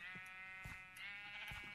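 Sheep in Minecraft bleat three times in short, nasal bursts, spaced evenly over a faint steady background hum.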